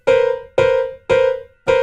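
Piano notes struck in sharp, repeated stabs, each stepping down a semitone, imitating a horror-film string stab; four loud, evenly spaced hits with short decays between them, no voices.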